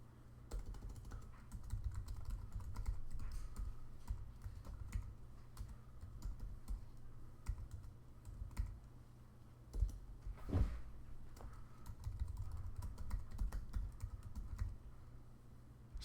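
Keystrokes tapping out a Wi-Fi network password on a keyboard while reconnecting a Honeywell WiFi VisionPRO 8000 thermostat, a steady run of soft, close clicks over a quiet room with a few louder knocks near the end.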